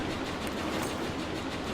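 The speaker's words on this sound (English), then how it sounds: "I really like this train. I like this new train." A train rolls along in the Roblox Jailbreak video game, giving a steady, continuous rumble and rattle that holds at an even level throughout with no voices.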